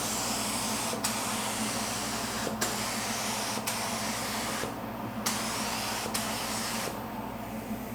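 A spray gun with a 1.4 tip lays down candy paint in a continuous loud hiss, broken by short pauses between passes, with no voices.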